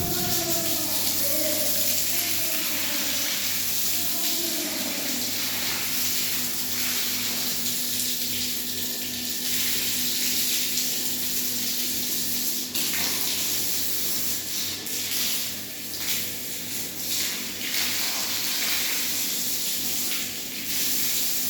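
Water sprays and hisses steadily across a freshly laid work surface, a continuous broadband rush lasting the whole stretch with slight fluctuations and faint background sounds.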